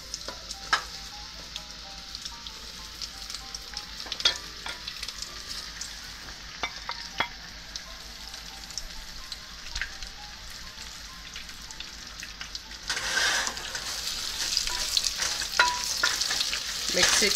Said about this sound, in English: Once the butter melts, add slices. Now add our slices.